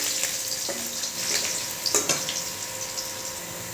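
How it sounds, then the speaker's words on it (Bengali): Whole cumin and chopped onion sizzling in hot oil left from frying fish, a steady close hiss broken by a few light stirring clinks, with no voices. "মাছ ভাজা তেলে দিয়ে দেব গোটা জিরে ফোড়ন, দিয়ে দেব কুচিয়ে রাখা পেঁয়াজ"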